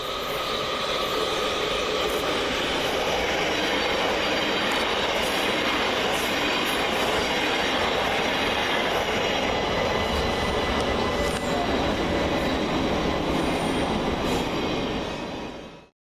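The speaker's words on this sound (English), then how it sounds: "we see our train arrive 378-145, working the 12:40 London Overground service from West Croydon to Highbury and" A London Overground Class 378 electric train arrives at Anerley station, its wheels rumbling and clattering with squealing brakes and a steady, loud roar close by for about fifteen seconds before cutting off.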